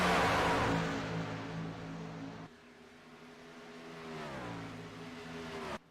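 Racing trucks on the track at Charlotte: a loud engine roar sweeps past and fades, then another engine climbs and drops in pitch as it passes, with no voices over it.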